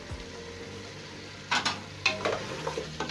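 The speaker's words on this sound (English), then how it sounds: "Give it a good stir." A spoon stirs eggplant and vegetables in a frying pan for succotash (githeri), a low background sizzle broken by a few sharp scraping clatters in the second half.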